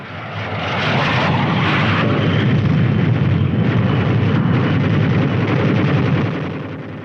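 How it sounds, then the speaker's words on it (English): A 1950s US Army strike aircraft roars past, its loud engine swelling in and fading out, with a dense rattling burst of machine-gun and rocket fire over the whole pass, and no talk. "next flight uses machine guns and rockets."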